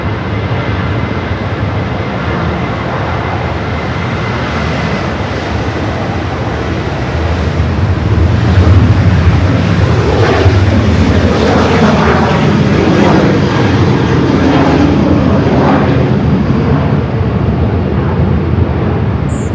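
An Air Tahiti airliner bound for Paris taxis at Los Angeles International Airport, a loud, sustained jet engine roar that swells slightly midway and continues steadily with no voices.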